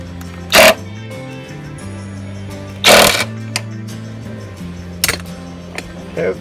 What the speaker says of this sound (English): I got it tightened down with the impact and an 18 millimeter, with an 18 millimeter socket